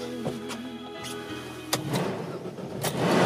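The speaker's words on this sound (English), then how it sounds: "start the car." A Chevrolet Sonic's engine cranks and starts with a sharp burst, then settles into a steady idle inside the car, preceded by faint chimes and clicks from the ignition.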